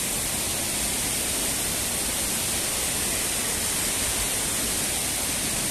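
Water rushes steadily at the spring source of a trout farm in Antalya, Turkey, a loud, unbroken broadband roar close by with no variation and no voices.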